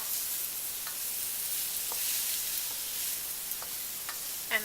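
A chickpea flour vegan egg sizzles steadily in a hot vegetable stir fry, with a constant bright hiss and a few soft scraping stirs of a utensil against the pan, no voices.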